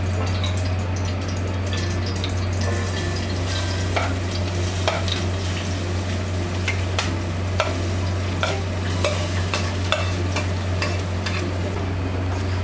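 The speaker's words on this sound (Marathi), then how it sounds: "हे खोबरं व्यवस्थित भाजून घ्यायचं" Grated coconut roasting in two spoons of ghee in a pan for ukadiche modak, with a steady sizzle and repeated scraping stir strokes throughout, plus a constant low hum underneath.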